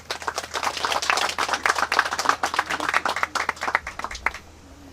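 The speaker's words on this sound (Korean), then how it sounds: "박수로 부탁드리겠습니다" Applause at a memorial ceremony for Jo Bong-am, with dense overlapping handclaps from an audience building to a steady burst and then thinning into a few scattered claps before stopping.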